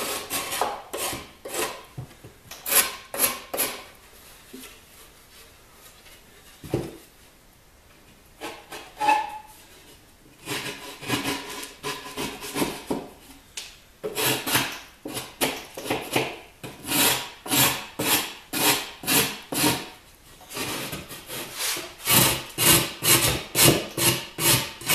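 A knife carves wood outdoors in a series of close, rhythmic scraping strokes, some bursts rapid and repeated, with brief quieter pauses between passes.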